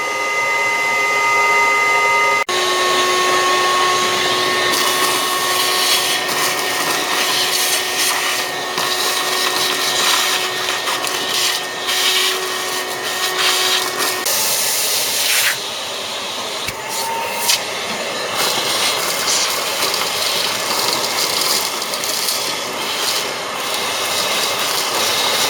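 A loud vacuum cleaner runs continuously, its pitch and rushing airflow changing as the nozzle moves and pulls in debris.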